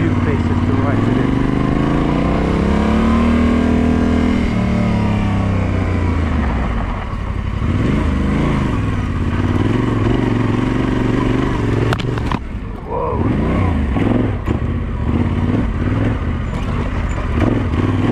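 A Yamaha Tenere 700 motorcycle rides off-road, its engine droning loudly and rising and falling in pitch through gear changes, with wind rush and rough terrain noise throughout.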